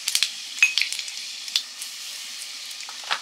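Panch phoron spices sizzling in hot oil in a pan for a fish curry, a steady bright crackle with sharp pops and spatters scattered across the moment, close and alone.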